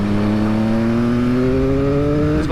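A 2020 Triumph Speed Triple RS motorcycle pulls in third gear at low revs, its engine note climbing steadily and close with a smooth, throaty drone under wind noise.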